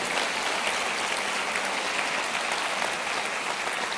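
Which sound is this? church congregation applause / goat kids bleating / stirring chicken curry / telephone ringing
church congregation applause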